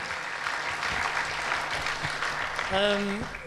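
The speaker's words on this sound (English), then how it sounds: "Can we give him a nice round of applause?" A round of applause for an outgoing editor at a literary awards event. Fairly quiet, steady clapping fills the room, and a voice begins speaking near the end.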